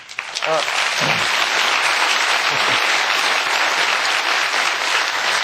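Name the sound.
studio audience applause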